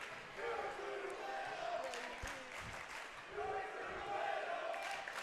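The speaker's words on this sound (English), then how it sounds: "As the crowd is chanting" A crowd chants in rhythmic waves through a gym during a high school girls' basketball game between Meigs County and Kingston. Two swells of massed voices rise over a steady background din.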